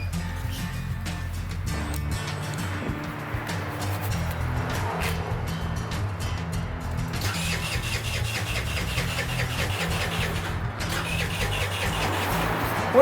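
A car engine cranks and catches, then settles into a steady mid-pitched idle with a low rumble, loud and close, continuing without pause to the end.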